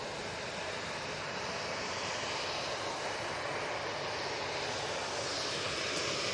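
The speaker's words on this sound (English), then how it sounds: "Ryanair coming on in front of us." Ryanair airliner approaching at Manchester Airport, a faint, steady broadband jet hiss and rumble from a distance, with no talking.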